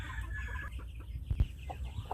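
Chickens on a small home-scale farm make brief clucks and faint fowl calls in a semi-free-range coop, with a low background hum and a couple of louder close knocks.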